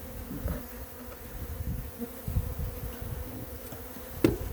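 A dense, steady buzz of many honey bees fills the air close up around an open hive during an inspection, a continuous low drone with occasional louder passes.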